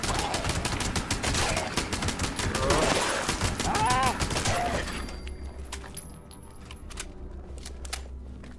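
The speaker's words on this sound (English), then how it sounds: "I'm gonna shoot ghouls." Rapid gunfire rattles as ghouls are shot in Fallout 76, with loud, close, dense bursts over the first five seconds and then sparser scattered shots fading into quieter ambience.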